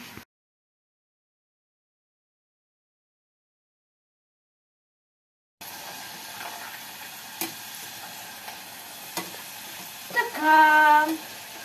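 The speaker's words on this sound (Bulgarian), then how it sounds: "да се опържат картофките и да станат хубави" Potatoes sizzle in a frying pan at home, with a steady crackling hiss after a stretch of silence, a few sharp clicks of stirring, and a short burst of tonal sound near the end.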